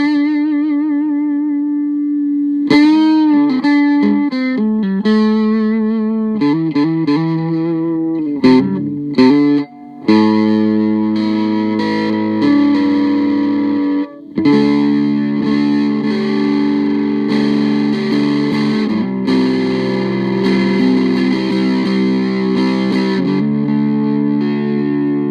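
An electric guitar plays chords and single notes through a retro fuzz pedal at its lowest distortion setting, sustained and close, with brief pauses between phrases.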